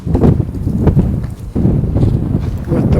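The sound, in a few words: wind blowing on a cold morning walk in Dartmouth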